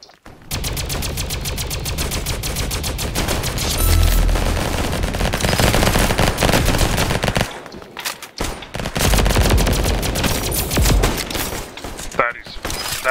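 A raygun fires in rapid automatic bursts in the Roblox game Flag Wars, loud and continuous with a few short breaks, while a voice talks over parts of it.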